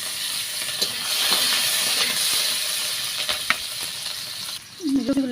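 Cumin seeds, green chillies and chopped onion sizzle in hot oil, a dense steady frying hiss close by with occasional stirring clinks, then a short tonal scrape near the end.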